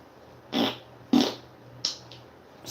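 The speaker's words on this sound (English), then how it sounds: "Smell what that fart sniffs like, you know what I'm saying?" Three short, breathy bursts with a low buzzy edge, spaced about half a second apart and fading in strength, heard close and alone over a faint steady hum; they fit a fart.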